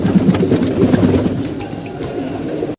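Pigeons cooing close by in a loft on a cold day, a steady run of low, throaty coos that fade slightly toward the end.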